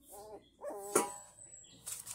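Puppies give a few short high yips and barks up close, a quick uneven burst over light background noise.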